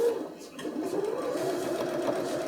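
A sewing machine stitches along the lines of a fabric bag, giving a steady, continuous mechanical whir at close range with no pauses.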